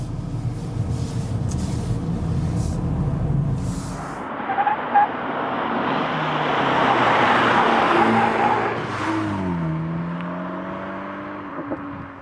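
A new-generation VW Polo GTI drives through winding corners, its engine note rising and falling as it accelerates and then fades off as the car pulls away, with no talking.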